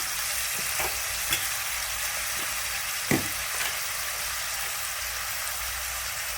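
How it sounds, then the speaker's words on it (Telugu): Garlic, dried red chilies, onion, curry leaves and green chilies fry in hot oil with a steady close sizzle, broken by a few soft clicks and pops. "ఆయిల్ తెల్లగడ్డ ఎండుమిర్చి ఆనియన్ని కరివేపాకు పచ్చిమిర్చి వేసుకోవాలి"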